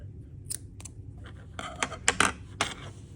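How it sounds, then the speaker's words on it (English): Scissors snip through yarn while fastening off a crocheted bag charm: a few quiet, crisp, close cuts spaced unevenly over three seconds, with no talking. "get your scissor and just cut"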